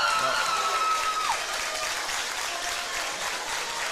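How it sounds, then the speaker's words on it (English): Edmonson County fans clap in the stands late in a high school basketball game, a broad, continuous patter of applause heard under a commentator's voice, with a brief whistle-like tone early on. "Edmonson County fans clapping over here like they're 10 points ahead."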